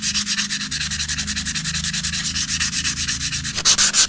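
Hand sanding with 240 grit sandpaper to remove rust from a Honda CRF300L motorcycle frame, steady rhythmic back-and-forth scraping strokes close up, roughly four per second, with no talk.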